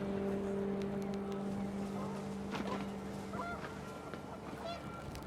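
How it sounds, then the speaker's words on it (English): Panicked geese honk in a flurry in What Remains of Edith Finch, a few loud calls breaking through steady wind and outdoor ambience before the flock quickly passes. "panicked geese appeared and quickly went"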